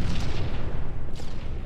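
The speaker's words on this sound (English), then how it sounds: "A fucking nade got me." A grenade blast in Halo 2 hits as a dense, loud booming burst, low and rumbling across the whole short moment, with a second muffled thump near the end.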